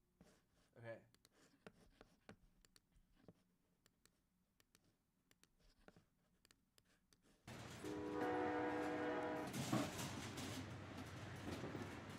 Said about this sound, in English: let's load up some of these train sounds